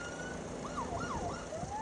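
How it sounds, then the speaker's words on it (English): Sonoma County Sheriff's helicopter siren: a clear, wailing electronic siren sweeping up and down in pitch, fairly loud and steady with no talking. "It's kind of cool to have a siren on your helicopter"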